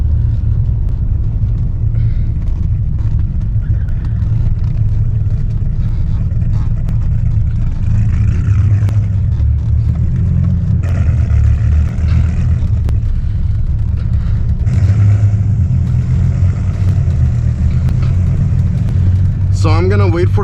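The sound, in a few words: 1997 Dodge Viper GTS engine while driving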